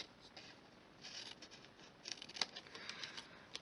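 Scissors cutting through card stock, a faint close run of soft crunching snips and paper scraping, with one sharper click partway through.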